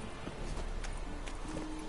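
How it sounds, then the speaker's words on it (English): Horse hooves clip-clop steadily in The Witcher 3 video game over a dense background of ambient noise, at a moderate distance. "Okay, let's get my horse back."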